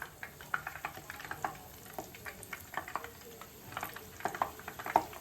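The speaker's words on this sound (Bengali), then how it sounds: "বাকিগুলো আমি আর এইভাবেই ভেজে নিচ্ছি।" Chicken pakoras fry in hot oil, a quiet, steady crackle and sizzle broken by small irregular pops, heard close and alone.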